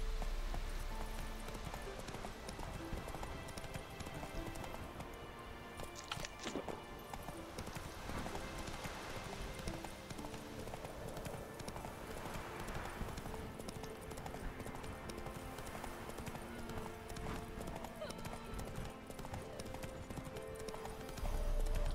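Roach the horse gallops in Witcher 3, steady rapid hoofbeats clip-clopping over a continuous game soundscape with background music for the whole stretch.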